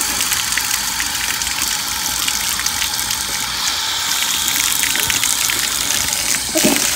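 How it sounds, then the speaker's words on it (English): Shower water running steadily while someone rinses off, a close, loud, even hiss of spray with no break, alone without talk. "I'm rinsing myself."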